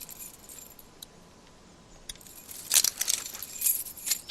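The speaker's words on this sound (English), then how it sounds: "And drops the keys right by his mouth." Cuff keys drop and jangle in The Walking Dead video game, faint at first, then a run of bright metallic jingles and clinks close by.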